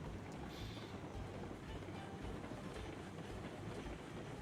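A train headed by a Glenbrook locomotive in Railroads Online, heard as a steady, dense rumble with continuous rolling noise and faint rhythmic clatter, even in loudness throughout and without talk.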